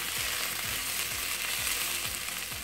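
Leek and onions browning in a pan for a fried sauce, producing a loud, steady, close sizzle with a faint rhythmic scrape or stir about every half second underneath, no voices.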